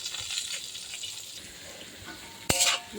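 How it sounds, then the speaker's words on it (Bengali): Onion and chilli fry in a wok for aubergine bhuna, a soft sizzle with faint stirring scrapes, then a sudden louder burst of hissing near the end. "বেগুন ভুনার জন্য পেঁয়াজ মরিচ দিয়ে দিয়েছি কড়াইতে।"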